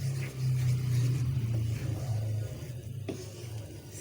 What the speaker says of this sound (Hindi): ये गली से गुजरने वाली गाड़ियों की आवाज़ें बहुत तंग करेंगी